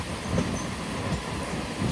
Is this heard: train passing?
yes